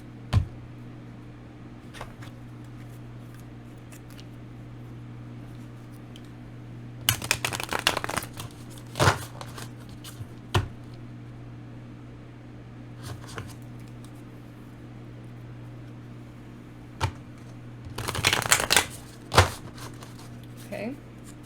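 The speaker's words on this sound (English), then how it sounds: "Now let's shuffle these bad boys." Tarot cards being shuffled by hand, heard as two short bursts of brisk riffling and flicking separated by quieter handling, over a steady low background hum.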